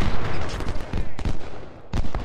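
Repeated cannon fire in Ultimate General: Civil War, a Union battle at Bull Run, with several loud booming bursts spread through the clip against a steady rumbling battlefield background.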